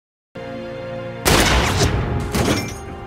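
Sniper gunfire in the war film Fury: sudden loud, sharp bursts of shots and impacts crash in after a stretch of steady background music, with a second burst of fire following about a second later.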